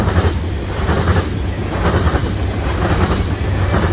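A CN freight train rolls past with a distributed power unit locomotive mid-train, a loud, steady rumble of wheels and engines with continuous rail clatter and no voices.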